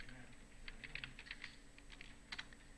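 Someone types on a computer keyboard, a faint short run of light key clicks in a quiet room with low background hum.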